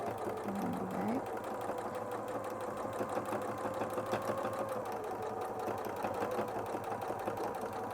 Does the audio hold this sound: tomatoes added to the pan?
no